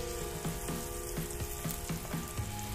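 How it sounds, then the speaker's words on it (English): A burger patty with caramelized onions sizzles steadily on a hot griddle, a constant close crackling hiss with faint periodic ticks and scrapes underneath, no voices. "that's just going to sizzle there for about 2 or 3 minutes"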